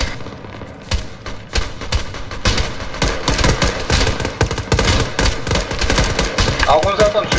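Arma 3 gunfire rattles in a sandstorm combat scene: dense bursts of automatic fire and scattered single shots, loud and near, crackling almost continuously with a voice occasionally speaking underneath.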